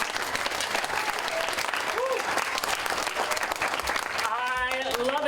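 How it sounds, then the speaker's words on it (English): An audience at a summer reading and exercise challenge event breaks into loud, sustained applause, a dense wash of clapping that carries on steadily, with voices rising near the end. "Can we give a big round of applause?"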